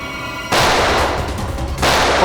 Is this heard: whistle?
no